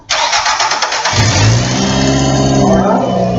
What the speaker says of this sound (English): have my assistant start the car in a moment and let it come down and idle